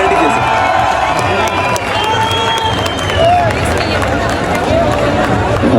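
Dense crowd noise fills a literature festival hall at BUITEMS in Quetta, a continuous loud wash of clapping and cheering from a large audience with shouts rising through it.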